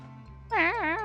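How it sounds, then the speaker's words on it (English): A cat close by gives a drawn-out, wavering meow that rises and falls twice, cutting in sharply over a low steady indoor hum after a brief quiet moment. "She's making that kind of meowing noise at me."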